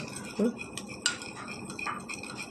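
A spoon stirs a homemade face pack mixture for dry skin in a small bowl, giving light, scattered clinks and scraping taps, quiet and close with no talking.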